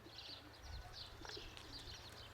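Pigeons landing nearby give faint, soft repeated coos and a few chirps in a quiet outdoor setting, with low rumbling background under the calls.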